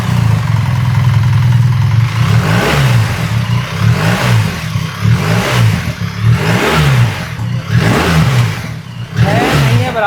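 A BMW R1300 GS motorcycle fitted with an Akrapovic exhaust revs loud and close, with a deep idle burbling between several sharp throttle blips that rise and fall in quick succession.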